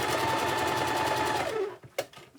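A sewing machine runs fast and steadily while chain piecing fabric, its stitching buzz continuous for about a second and a half before stopping, followed by a couple of small clicks.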